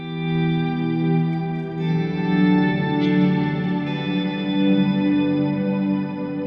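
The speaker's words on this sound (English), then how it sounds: "if I were to try that with the shimmer instead of the octaver" A slow guitar swell through shimmer reverb blooms into a dense, sustained wash of shimmering overtones, fairly loud and steady throughout, with no talking.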